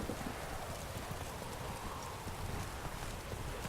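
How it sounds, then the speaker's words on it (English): A horse ridden through The Witcher 3 sends up a steady, continuous clip-clop of hooves, fairly quiet and even throughout, with no talking. "I could fast travel, but I figured I'd just ride the horse there"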